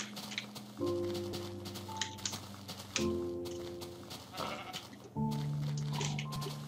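Sheep bleating in the Minecraft video game, three drawn-out electronic bleats spaced a couple of seconds apart, over faint keyboard clicks and soft game noises.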